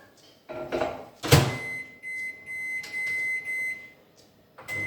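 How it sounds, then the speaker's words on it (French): A microwave oven heats a bowl of ingredients for savory ham, cheese and chorizo donuts in a home kitchen: a door thud and button beep, then a steady electronic hum with a faint tone, ending with another click. "on va mettre à chauffer ça au micro-ondes"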